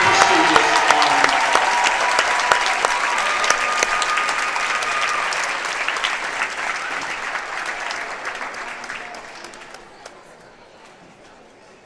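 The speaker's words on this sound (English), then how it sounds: "Let's have a big round of applause for these athletes" A crowd in a high school gym applauds steadily at a girls' basketball awards ceremony, loud sustained clapping with some cheering that gradually thins and fades out over about twelve seconds.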